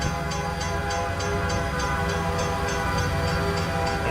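A model train runs along its track on a mountain route. A loud, steady rumble holds throughout, with a faint rhythmic clicking layered over it.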